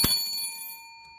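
A single bright bell ding rings out during a win-it-all lottery ticket scratching session, with a sharp strike followed by a long, clear ringing decay that fades over about a second.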